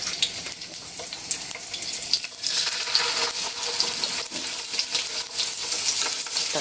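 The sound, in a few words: tofu frying in a pan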